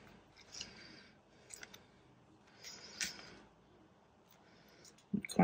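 Scissors snip paper for a handmade envelope notebook project in a few quiet, separate cuts with small clicks between them, followed by a louder rustle at the end.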